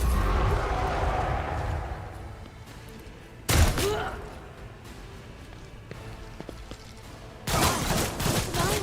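A gun fires in the video game Warhammer 40k Rogue Trader, with loud bursts of gunfire at intervals and quieter game sounds between them.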